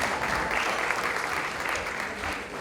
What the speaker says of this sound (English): there's a lot of applause that needs to happen